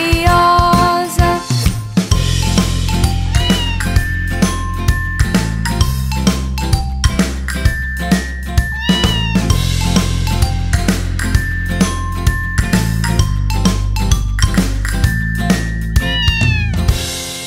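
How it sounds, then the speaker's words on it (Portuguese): Sung meows from cats in a bouncy Portuguese children's song ride over a steady beat and bright plucked melody, repeating in a regular rhythm, loud and upfront throughout. "Miau, miau, miau, miau"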